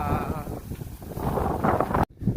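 Wind buffets the microphone in a constant low rumble after Typhoon Leon, ending with an abrupt cutout.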